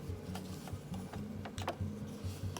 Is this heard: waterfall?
no